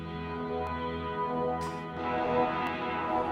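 Electric guitar played through phaser and mono echo pedals with only the wet signal, a sustained effected tone with smeared repeats and shimmering modulation, steady and fairly loud throughout.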